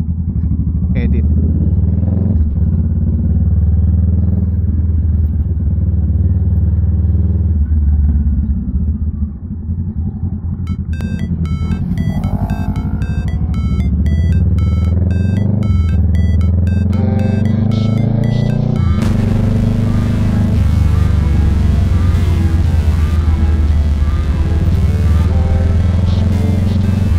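A motorcycle on a casual ride out drones with a steady, loud engine rumble and wind noise, shifting through the revs as it goes, while a rider talks throughout.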